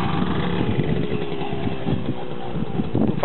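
Engine of a Romet Pony motorcycle running close by, a steady buzzing drone with small throttle swells and a slight rise near the end, continuous with no talk.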